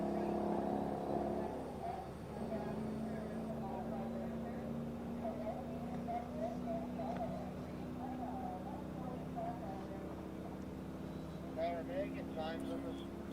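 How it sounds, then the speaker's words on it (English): A land speed race car's engine accelerates off the push truck, a faint, steady hum in the distance that sits beneath continuous commentary. "Engine doesn't sound like it's too happy on the lower end of the RPM span"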